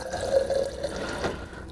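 Cold water is poured briefly for a Greek frappé coffee, a short close trickle with a steady ringing tone as it fills, ending in a few drips.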